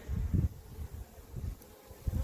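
Honeybees buzz around a hive in a bee sanctuary, a low, steady drone rising and falling in a few soft swells, close and fairly quiet with no voices.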